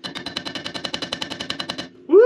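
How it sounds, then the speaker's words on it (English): Rapid metallic banging on a car brake caliper during backyard ball joint and spindle removal, about twenty fast, evenly spaced sharp hits lasting nearly two seconds, then a short tonal squeak at the end. "Just bang on the caliper."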